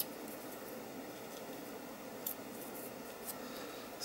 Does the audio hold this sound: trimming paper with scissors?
yes